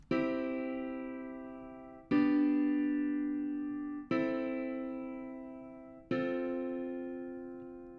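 Four sustained chords of a major progression are struck one after another at an even pace, each ringing out and slowly fading before the next begins.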